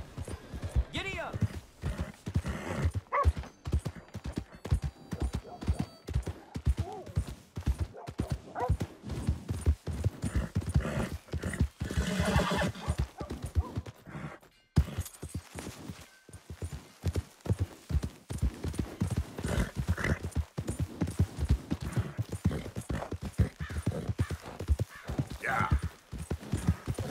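A horse gallops in the video game Red Dead Redemption 2, its rapid rhythmic hoofbeats continuing close and loud throughout, with a brief pause midway and voices heard intermittently.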